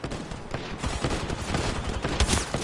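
Sustained bursts of gunfire from the video game Apex Legends, dense overlapping shots filling the mix at steady loudness throughout, with no talk.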